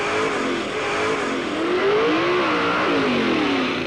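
Late-1960s drag race cars, a Hemi-powered 1967 GTX and a 396-powered Super Stock Camaro, roaring off the line together as loud, sustained engine noise with rising revs throughout.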